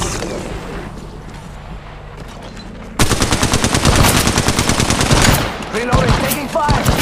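Rapid automatic gunfire in Apex Legends Mobile erupts loud and close after a quieter stretch of game ambience, sustained rattling bursts with short gaps, and a brief voice line near the start.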